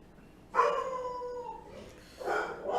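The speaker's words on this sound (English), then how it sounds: "My dog is barking" A dog nearby lets out a drawn-out whining howl, then a short burst of barking after a brief pause, fairly loud in a quiet indoor space.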